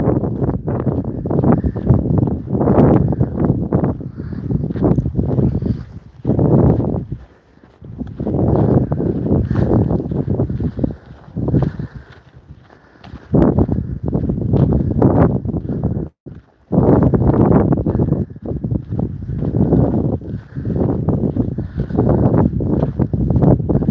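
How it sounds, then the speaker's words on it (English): Strong wind buffeting a microphone during an outdoor walk in Lublin: loud, rumbling low gusts roar almost continuously, with a few brief lulls between blasts. "This wind is no fun."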